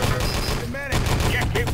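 Rapid video game gunfire crackles in dense, overlapping bursts through most of the moment, with a brief lull and a voice speaking near the middle.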